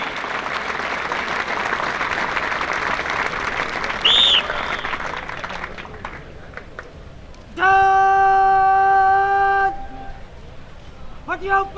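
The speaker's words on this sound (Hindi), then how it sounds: "आपकी तालियां जवानों के संग रहे।" Crowd applause for police jawans after a weapon assembly drill at a Punjab police parade and talent show, a dense clapping wash joined by a brief whistle and a loud sustained electronic tone.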